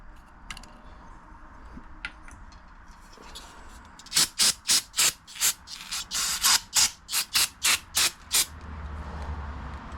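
A Toro LX427 lawn tractor carburetor gets cleaned by hand with a series of short, sharp spray bursts in a quick rhythm, close and loud, after a quieter stretch of faint handling noise.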